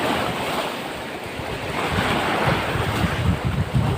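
Rough sea waves slosh and break around a small fishing boat at sea, a loud continuous churning wash with gusty wind buffeting the microphone throughout.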